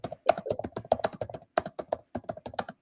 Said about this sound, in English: if somebody could mute if they're typing, that would be great